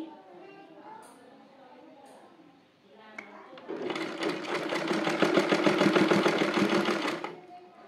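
A sewing machine runs in a steady rapid burst of stitching, sewing dori ribbons onto the side of a Naira-style dress; quieter handling sounds come before the loud, even mechanical whirr, which lasts about four seconds and then stops.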